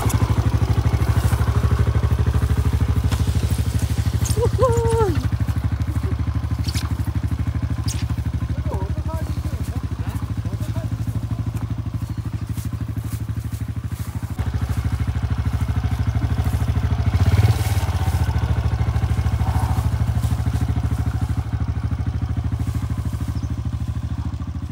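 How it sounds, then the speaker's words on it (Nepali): A TVS motorcycle rides along a muddy, rain-soaked village road, its low engine drone running steadily throughout with occasional clatter, while a voice talks intermittently over the noise. "बाइक त यस्तो चिप्लिन्छ"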